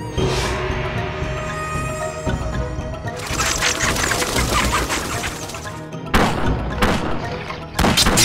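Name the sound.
musketeers firing guns in video game Battle Realms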